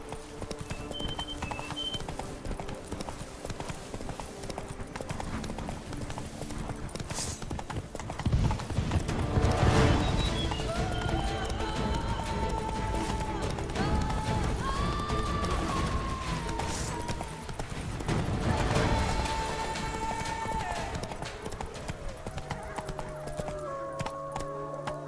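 Horse hooves clip-clop steadily at a gallop in a video game, with music and game sounds layered over the running rhythm and a brief whinny.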